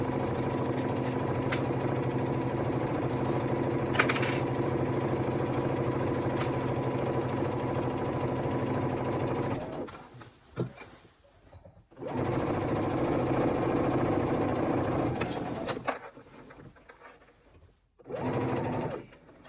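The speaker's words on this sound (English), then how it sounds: "I'm going to sew all the way down and around the pocket." Sewing machine stitching around a dress pocket, a steady close mechanical whir running in two long bursts separated by short pauses with faint handling noise.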